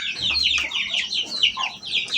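Chickens cluck close by in a rapid, overlapping stream of squawky calls, busy and continuous with brief gaps and no talk over them.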